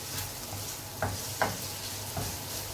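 Vegetables cooking in a pan with spices for pasta sauce sizzle in a low, steady hiss, broken by a few soft clacks of stirring, close and fairly quiet, with no one talking.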